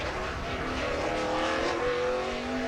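A NASCAR stock car driven by Ricky Rudd screams through a qualifying lap at the 2007 Toyota/Save Mart 350 road-course event, its engine holding a loud, steady roar with a rising pitch as it carries speed.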